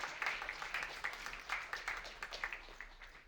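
A small audience at an open-night film event claps in a modest round, with individual claps audible in an uneven patter at low volume.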